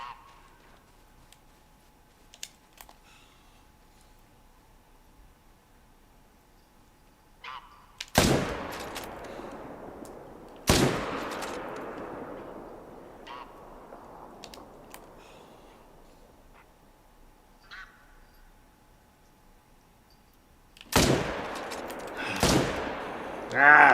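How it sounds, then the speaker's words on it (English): Rifle shots crack out during a whitetail deer hunt in a hunting video game, three loud single blasts with long decaying echoes spread across the clip and a quiet ambient bed between them. "Took a shot at a third one and muffed it."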